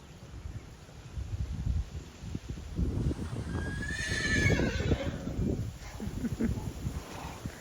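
A horse whinnies once in the middle, a rising then falling neigh over outdoor rustling and shuffling, with faint voices around it.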